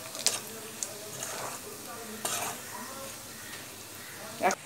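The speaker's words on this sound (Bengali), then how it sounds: "আর এদিকে চিকেনটা ভাজছি" Chicken pieces fry in a home kitchen pan for egg chicken rolls, a soft continuous sizzle broken by a few sharp utensil scrapes and clinks.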